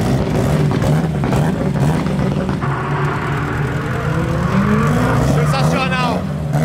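A Subaru 4x4 race car engine runs loud and steady at close range, with a deep, continuous mechanical roar throughout while people talk over it.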